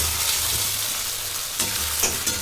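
Garlic paste fries with onions in a pan, producing a steady, dense hiss of oil with a few brief scraping bursts from stirring, close and moderately loud throughout.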